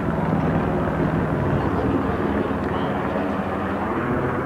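A steady, continuous rumble of a helicopter overhead, droning without a break, with faint voices mixed in beneath it.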